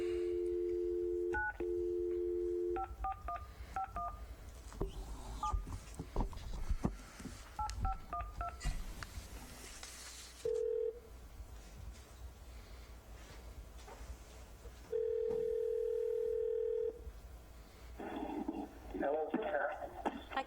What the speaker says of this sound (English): We're going to try to call in Commissioner Farr